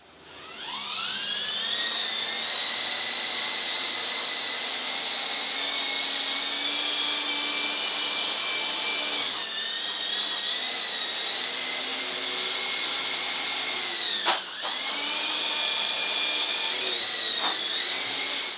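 A steady high-pitched electric whine of a small helicopter's motor and rotor, rising at the start and holding close and loud with slight pitch dips.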